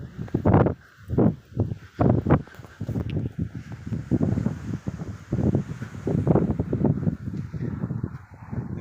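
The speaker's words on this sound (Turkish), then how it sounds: "Soğuk ya rüzgar götürüyor bizi" Strong gusts buffet the microphone in heavy, uneven bursts, a roaring rumble rising and falling with hardly a pause.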